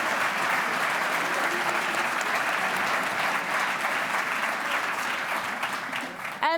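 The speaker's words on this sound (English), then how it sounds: "And the 2nd place, a big round of applause for Eduardo Brito." Steady, dense applause from an audience at an essay competition award ceremony, holding at an even level throughout before a brief rise at the very end.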